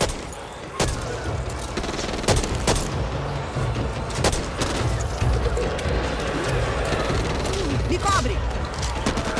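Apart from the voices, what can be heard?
gunfire in video game Back 4 Blood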